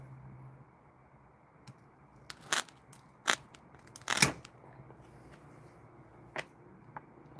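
Pruning cut into a wounded apple tree branch while preparing it for grafting, heard as a few sharp snips and crunches scattered over quiet background, with no talking.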